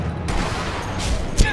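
Enemy fire cracks in Sniper Elite V2 co-op, a few loud shots with a continuous noisy rumble between them.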